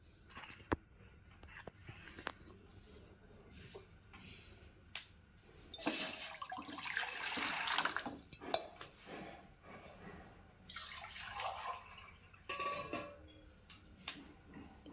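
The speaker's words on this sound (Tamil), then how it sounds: "ஒரு 1/4 லிட்டர் போல் தண்ணி ஆட் பண்ணிக்கலாம் நம்ம." About a quarter litre of water pours into a bowl on a stove for barley porridge in two short bursts, a splashing gush with scattered clinks of kitchenware and faint quiet voices around it.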